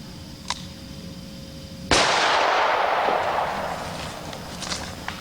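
A single sharp gunshot from a .460 handgun with a 3-inch barrel firing a 230-grain bullet, a loud close crack followed by a long ringing outdoor decay.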